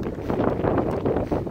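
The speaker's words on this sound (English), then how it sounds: "But it's just still too windy, I think." Strong gusting wind at the edge of a valley, a loud, close rushing roar buffeting the microphone and rising and falling unevenly with no other sounds.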